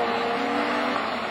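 A Super 1600 rallycross race car pulls away at Lessay with a steady, loud engine roar that holds constant throughout the short stretch, broadband and without pauses.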